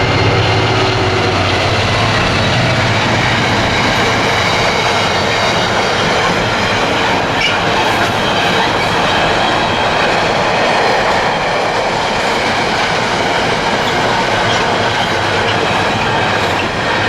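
Freight train 4M29 from Felixstowe North to Birch Coppice, hauled by Class 66 locomotive 66747, passes at Second Drove with a loud, steady rumble and clattering wagons from start to finish.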